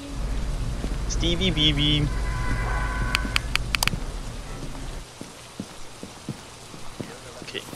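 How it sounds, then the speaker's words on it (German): Rain falls in the Phasmophobia ghost-hunting video game as a steady patter under a loud low rumble. A person shouts briefly, sharp clicks follow, and then the rain continues more quietly with scattered drops. "Wieso regnet es denn so, Leute? Das ganze Equipment wird nass."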